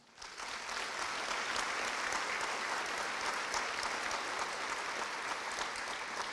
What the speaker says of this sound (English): a huge round of applause for what they have accomplished at Texas Live